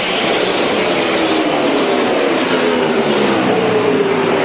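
NASCAR Nextel Cup Series race cars roar around the track at full speed, a loud continuous engine howl with rising and falling pitch as cars sweep past, under the noise of the crowd.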